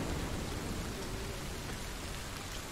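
Steady rain falling in the video game The Medium, a dense even hiss that fills the whole stretch without breaks, moderately loud and alone.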